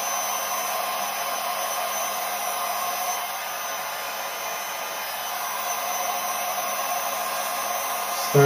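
A hair dryer or heat gun on its second setting blows a steady, close airy roar over a plastic Hasbro Proton Pack toy, holding even throughout with a brief louder bump right at the end.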